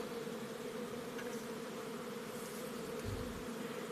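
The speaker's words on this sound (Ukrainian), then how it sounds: "Ось так залітає рой до вулика." A honeybee swarm flies into an open beehive at a mobile apiary, giving a dense, steady buzz of many bees close by with no talk.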